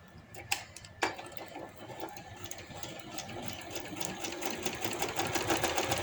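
Sewing machine stitching the seams of a party-wear maxi frock, running in a steady continuous whir with a couple of sharp clicks early on, fairly quiet and close, with no talk over it.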